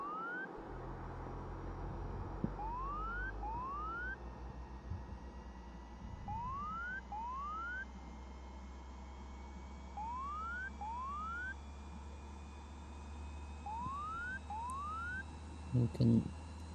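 Cockpit alarm in Microsoft Flight Simulator 2020 chirps in repeated pairs of rising electronic tones at a steady interval, sounding over a continuous low engine drone.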